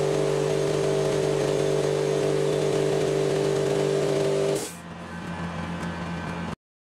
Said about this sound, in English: a crew showed up and started drilling a hole in my yard for a new sewer pipe.